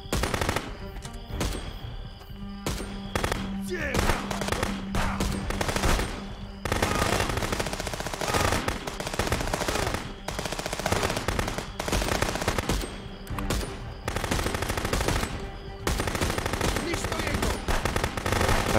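Sustained automatic gunfire from the video game Contraband Police, a nearly continuous stream of rapid bursts with overlapping shots and a few brief gaps, loud and dense throughout with a voice occasionally audible beneath.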